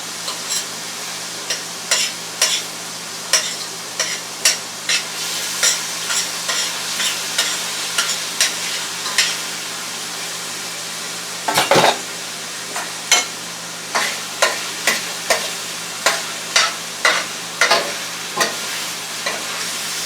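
Chicken, broccoli, potatoes and onions with garlic sautéing in a pan, with a steady sizzle under a run of regular scraping stirs about once a second, close and fairly loud, pausing briefly near the middle before resuming.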